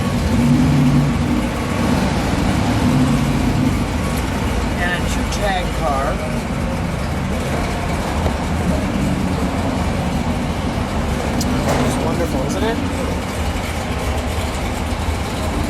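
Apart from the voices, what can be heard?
1971 Dodge Challenger R/T 426 Hemi engine running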